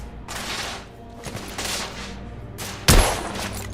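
Gunfire in the video game The Order: 1886, loud rapid bursts in close succession ending in one sharp, heavy blast, with no talking.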